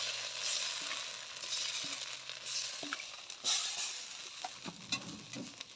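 Rice-flour batter for chitoi pitha sprinkled by hand into a hot wok, a steady close sizzle with scattered small pops and crackles throughout, no talk.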